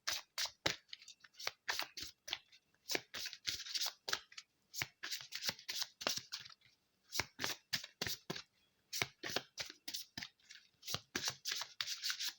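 A deck of cards is shuffled for a card reading, with quick riffling bursts repeating close and quiet over several seconds, and no talking.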